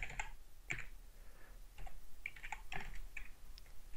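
Quiet typing on a computer keyboard, with irregular bursts of soft key clicks close to the microphone over a low hum and no speech.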